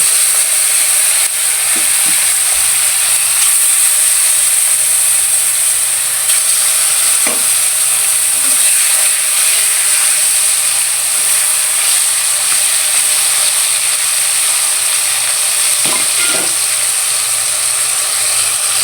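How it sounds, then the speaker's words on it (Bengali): Koi fish fry in hot oil with a loud, continuous sizzle, broken by a few faint clicks of stirring. "মাছগুলো এইভাবে মাছগুলো ভেজে নিব।"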